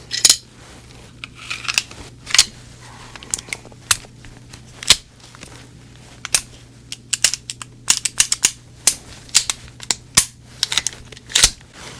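Sharp metallic clicks and snaps ring out irregularly as a post-war Walther P.38 pistol is put back together, close and crisp, with parts sliding and latching in bursts between short quiet gaps.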